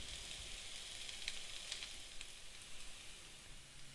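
Potatoes with curry leaves sizzle and fry in a pan over medium-to-low flame, a steady soft crackle with occasional stirring scrapes, close and fairly quiet.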